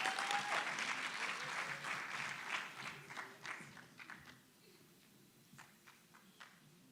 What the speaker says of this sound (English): Let's give her a good round of applause as well.